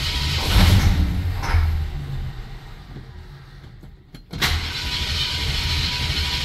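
Ford Fairlane 500 engine cranking over on a fresh battery, suspected of not getting fuel: surging starter whirs and mechanical churning, a brief near-silent pause, then renewed steady cranking noise, close and fairly loud, with no speech.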